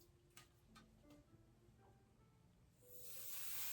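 A steady hiss of temporary spray adhesive builds near the end, sprayed onto stabilizer, following a few faint ticks and light handling noises.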